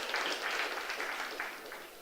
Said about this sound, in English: So put a grand applause.